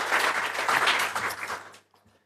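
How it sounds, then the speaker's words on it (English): Audience applause at a talk about pro-Israel organizations in Europe, a dense burst of clapping lasting under two seconds before it cuts off abruptly into near silence. "And those are the ones that deserve the applause."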